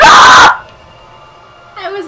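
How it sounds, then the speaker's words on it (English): A loud, short scream cries out for about half a second, then cuts off into near silence, with a brief murmur of voice near the end. "That was such scream. A fake ass scream."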